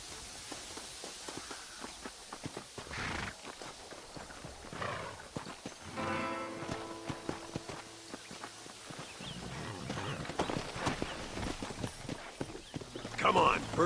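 Horse hooves clip-clopping in the Red Dead Redemption video game, a steady walking rhythm that runs under game music and ambience, with a few louder hits near the end.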